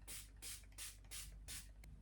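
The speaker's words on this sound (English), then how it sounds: "I'm going to use setting spray from Revolution, lasting whole spray to lock down all skin care products" Revolution lasting setting spray is misted onto a face in five quick, close hissing bursts, evenly spaced, with a faint click at the end and nothing else around.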